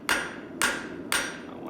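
Three sharp metallic hammer strikes setting a rivet, evenly spaced about half a second apart, each ringing briefly before the next blow.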